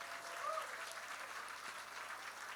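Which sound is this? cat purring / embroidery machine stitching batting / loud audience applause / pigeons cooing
loud audience applause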